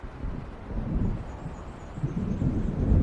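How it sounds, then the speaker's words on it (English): Low, rolling thunder from an approaching storm in the video game Alan Wake Remastered rumbles continuously with wind and rain-like noise, swelling loudest toward the end. "It seems there's a storm coming."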